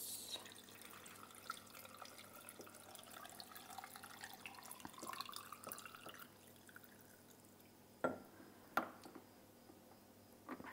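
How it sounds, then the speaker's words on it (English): Brine is poured over carrots in a jar for fermenting, a faint trickle and drip of liquid with small splashes and a couple of louder knocks of the container near the end. "Okay, I'm gonna put my brine on my carrots."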